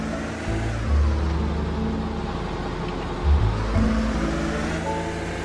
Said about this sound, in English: you just want to drive backwards into the water